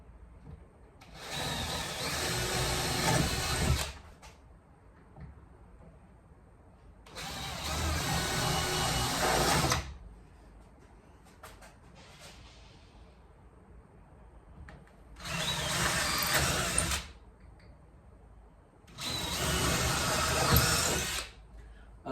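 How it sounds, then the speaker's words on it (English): A power drill with a 5mm bit bores holes for the lights of a snake enclosure, running loud and close in four separate bursts of about three seconds each, with quiet pauses between them. "Okay, drilling away."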